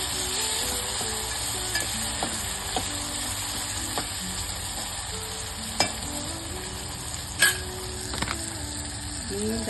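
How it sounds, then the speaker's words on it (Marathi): Tomatoes sauté with curry leaves in a pan for dal tadka, a steady bright sizzle running throughout with occasional spoon stirs and clinks against the pan. "कढीपत्ता टाकल्यानंतर आपण टाकणार आहोत टोमॅटो. थोडं चांगलं परतून द्यायचं."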